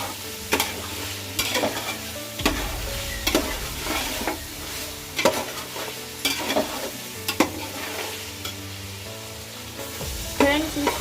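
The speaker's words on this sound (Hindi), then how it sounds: "इसको भी हम 2 मिनट तक चलाएंगे, भूनेंगे" Masala with green chili stirred and fried in a pan for a pulao, spatula scrapes knocking every second or two over a steady close sizzle, no voices.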